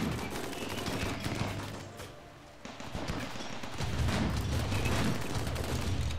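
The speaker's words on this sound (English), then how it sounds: "He's shooting at Chaos." Gunfire during a Rimworld colony fight, clustered shots and rattling bursts that come and go with a brief lull mid-way, moderately loud over busy game noise, with a voice faintly present.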